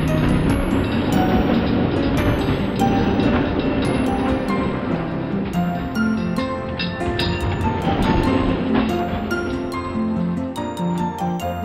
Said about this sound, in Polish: Drewniany pociąg.